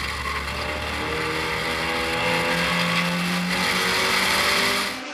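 Belgian championship touring cars race at Circuit Zolder in 2013, their engines forming a sustained, loud drone that swells slightly as they pass, with no break in the noise.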